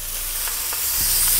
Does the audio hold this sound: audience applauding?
no